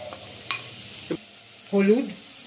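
Turmeric, cumin and chili powder fry and get stirred in a pan while cooking a carrot masoor lentil dal, with a soft sizzle, a few scraping stirs and one louder swell of frying near the end. No one talks.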